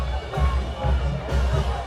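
Large crowd in the stands at a high school football game, a dense murmur of voices and general hubbub with a low rhythmic thump from a band beneath it.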